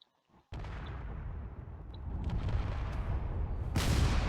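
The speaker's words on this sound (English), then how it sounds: "More torpedoes are being fired." Torpedoes and cannons fire in a video game battle against a corvette, a dense, continuous rumbling barrage that starts abruptly and swells louder and brighter toward the end.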